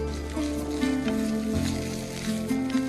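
Onions sizzling as they fry in a pan for a cheese paneer roll, a steady close hiss that continues throughout with no talking.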